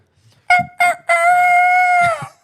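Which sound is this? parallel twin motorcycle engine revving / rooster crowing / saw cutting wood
rooster crowing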